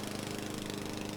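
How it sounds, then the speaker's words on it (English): Lawnmower engine running in the Nancy Drew: White Wolf of Icicle Creek game, a faint, steady, rough drone with a rapid pulsing throb. "who's riding a lawnmower?"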